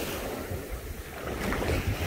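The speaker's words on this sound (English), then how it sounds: "So you see how the waves are starting to grow back there where my hand is." Ocean waves off the coast of Costa Rica, a continuous rumbling wash of surf mixed with wind buffeting the microphone, steady and fairly close with no talking.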